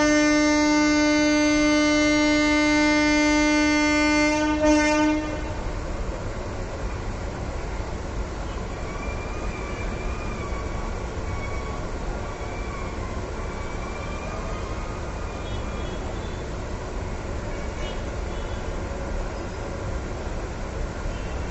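An express train passes at night at Krishnarajapuram station, a steady roar of moving carriages with a sustained horn-like tone over the first five seconds, then continuous rumbling rail noise.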